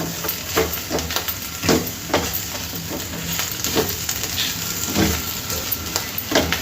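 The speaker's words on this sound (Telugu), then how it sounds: "అందుకని మూత పెట్టకుండానే 1 నిమిషం పాటు ఇలా దీన్ని వేయించుకుందాము." Potatoes and fenugreek leaves frying uncovered in a pan with coriander powder, a steady sizzle broken by repeated spatula stirs and scrapes, close and fairly loud.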